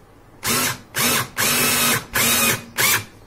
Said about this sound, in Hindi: फिर यहाँ पे हम इसको ड्रिल का चालू करके इसको अंदर डाल रहे हैं स्क्रू को